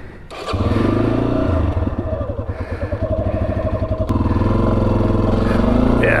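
A Yamaha XT250 motorcycle engine running up close on a wet desert ride, a loud steady low rumble with chugging pulses and a rev partway through, continuing throughout.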